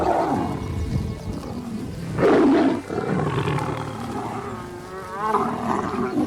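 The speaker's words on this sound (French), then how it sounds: "Faisant face aux ennemis, une dernière fois qu'il rugit" A wild African savanna lion, one of the Mapogo coalition, roars as it faces its enemies, deep, loud, rumbling calls with a strong burst in the middle and grunting breaths around it.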